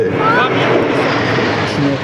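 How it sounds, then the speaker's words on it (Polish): A Su-22M4 fighter-bomber jet of the Polish military flies over a military parade in Warsaw, producing a loud, sustained engine roar throughout. "A tu samolot myśliwsko-bombowy Su-22M4."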